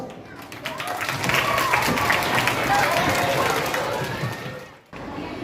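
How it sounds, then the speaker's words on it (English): A school audience applauds steadily at a mono acting competition prize presentation, a dense wash of clapping that swells and holds, then cuts off abruptly before faint noise resumes. "Huge round of applause."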